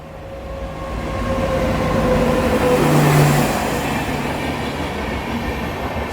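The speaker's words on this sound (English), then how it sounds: "See, another train is now coming." A train passes by on a railway line in Bengal. Its rumble and rolling wheel noise swell to a loud peak midway with a brief tonal squeal, then ease off slightly but keep going steadily, with no voices.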